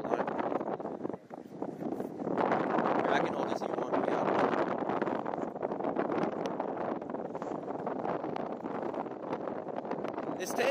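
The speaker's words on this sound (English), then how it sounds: "It's too windy right over here." Wind buffets the microphone at a Potomac River fishing spot, a steady loud rushing roar that runs throughout.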